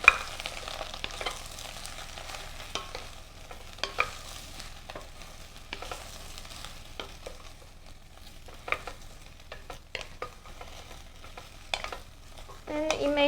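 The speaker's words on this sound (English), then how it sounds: "Now I'm going to cook the eggplants first." Eggplant pieces fry in hot oil in a pan, a steady close sizzle broken by frequent crackles and pops, with occasional stirring scrapes and no talking.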